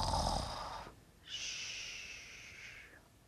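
A storyteller's voice imitating snoring, two drawn-out breaths: a rasping inhale followed by a hissing, whistling exhale, close and fairly quiet.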